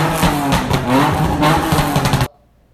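A car engine fitted with test pipes and a Spec D Tuning true dual exhaust revs loudly and close for about two seconds in rough, repeated bursts, then cuts off abruptly into near silence.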